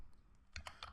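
A quick burst of three or four computer keyboard keystrokes, close and crisp, as code is typed in a Tkinter grid layout program; no talking.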